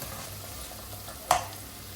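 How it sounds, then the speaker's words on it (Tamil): Vegetables and soaked green peas stir-frying for veg pulao, a faint steady sizzle with a single sharp scrape of the spoon against the pan partway through, no talking. "காய்கறியெல்லாம் நல்லா வதங்குற வரையும் நல்லா கிண்டிக்கலாம்."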